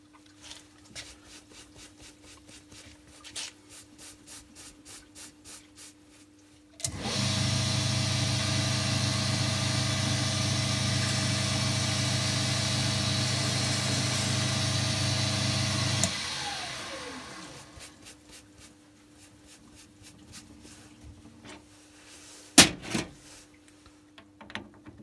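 A lathe cuts a chamfer on a miniature replica screw jack. Its motor sets up a steady, loud drone for about nine seconds, with quieter ticking and a sharp knock before and after.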